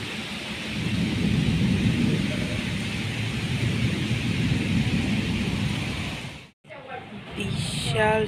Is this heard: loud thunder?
yes